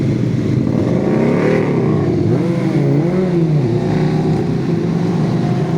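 A car engine revs loudly nearby, a steady roaring drone with rising and falling pitch sweeps as the throttle opens and eases, continuous throughout as background noise.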